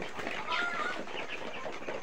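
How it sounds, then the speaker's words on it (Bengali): Egyptian Fayoumi laying hens and young chicks in a brooder peep and cluck softly at close range, faint chirps running under someone speaking. "অর্থাৎ ডিম পাড়া মুরগি"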